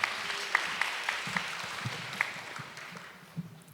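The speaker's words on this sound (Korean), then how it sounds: "장혜진 배우님께도 박수 부탁드리겠습니다." Audience applause for actress Jang Hye-jin at a village festival stage event, faint and distant, a thin steady patter with a few sharper claps standing out over roughly four seconds.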